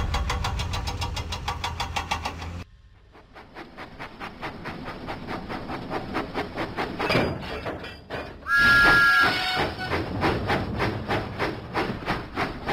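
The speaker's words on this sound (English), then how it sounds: "Thomas pumped his pistons and puffed out of the docks." A steam locomotive puffs in a Thomas & Friends video game: rapid, even chuffs repeat throughout, with a short break early on and a brief tonal toot partway through.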